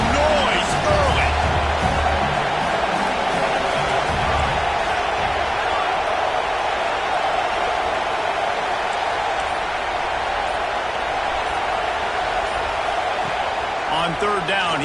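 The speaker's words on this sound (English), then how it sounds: "This crowd bringing the energy and noise early." Crowd noise at a college football stadium during Ohio State at Washington, a constant loud roar filling the stands, with an announcer talking over it.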